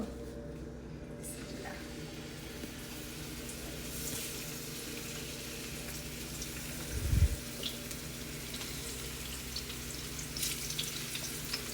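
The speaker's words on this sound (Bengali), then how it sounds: "এবার আমি মাছ একটা একটা করে ছেড়ে দিব।" Hilsa from the Padma river fries in mustard oil with a soft, continuous sizzle and hiss. One brief louder splash comes partway through, and the whole sound stays fairly quiet.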